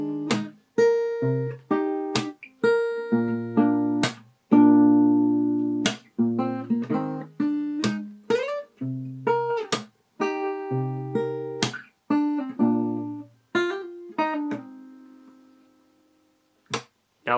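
D: A fingerstyle acoustic guitar plays the verse of a song with plucked melodic notes and bass over a slow, steady rhythm and brief pauses, played solo and close.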